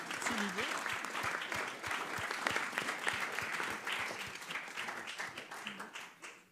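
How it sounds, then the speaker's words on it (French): A seated audience at a leadership talk breaks into dense, sustained applause, many hands clapping close together with a brief voice at the start, tapering off at the end. "On peut s'applaudir."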